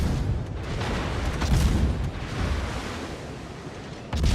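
Incoming shell explosions in a naval battle game, dull booming impacts over a rumbling wash like surf, dense and continuous with a swell in the middle and another hit near the end.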